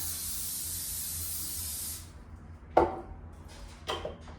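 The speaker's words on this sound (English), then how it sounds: "you want to make sure that you spray your pan" A steady hiss of cooking spray sprays onto a baking pan with grates for about two seconds, followed by a couple of sharp metallic clanks of the pan.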